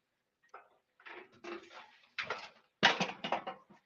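Chairs scraping and shifting in a room, a run of irregular clattering and scuffing bursts that build louder toward the end, with no speech.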